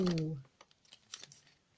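A small decorated paper sachet, number two in an advent calendar, is torn and opened by hand, giving faint, scattered crinkling rustles and light taps after a short burst of voice at the start.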